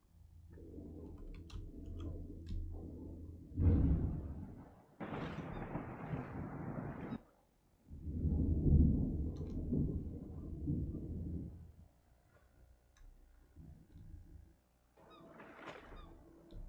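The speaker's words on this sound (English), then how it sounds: "I do not like the sound of that storm." Thunderstorm in the ocean survival game Escape the Pacific, heard as heavy rumbling thunder rolls and bursts of wind or rain noise that come and go over about sixteen seconds, loud then fading, with no voices.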